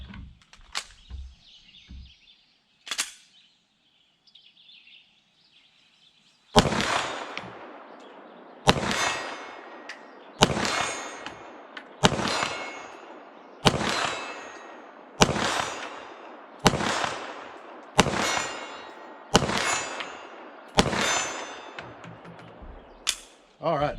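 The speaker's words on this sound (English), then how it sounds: "Let's give that 40-yard plate a shot." A SAR9 SOCOM pistol fires about nine evenly spaced shots at a 40-yard steel plate, each sharp report followed by a ringing clang, loud and alone after a few quieter clicks at the start.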